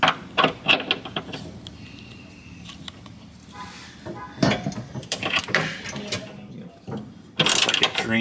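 Ratchet wrench backing out a bolt on the underside of a Ford Mustang during installation of Steeda jacking rails and an IRS subframe support, with short bursts of clicking and metallic clatter between pauses and some background noise.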